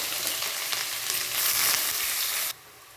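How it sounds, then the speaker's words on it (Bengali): Onion frying hard in hot oil already spiced with dried red chilli, garam masala, bay leaf and cumin, a dense close sizzle with faint stirring clatter, louder midway before dropping sharply near the end. "এবার পেঁয়াজ দিয়ে দেবো।"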